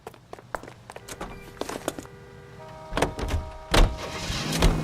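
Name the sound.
car driving in the video game L.A. Noire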